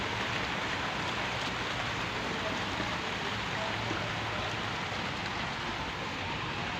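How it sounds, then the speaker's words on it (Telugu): Heavy monsoon rain pours steadily in a village setting, a dense, unbroken hiss of drops hitting surfaces close by, loud and even from start to finish with no break. "చూడండి వర్షం ఎలా పడుతుందో"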